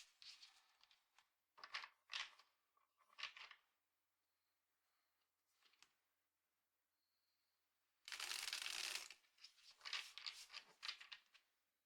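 Crisp bursts of a tarot deck being shuffled and riffled, several short rustling rounds with pauses, then a louder extended shuffle near the end.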